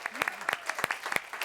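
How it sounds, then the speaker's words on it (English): Audience applause at a talk on meditation, brain research and peace: a burst of clapping hands with scattered sharp claps and steady crowd noise, moderately loud and fairly close. "And a big round of applause to Candy Crowley, who we just love."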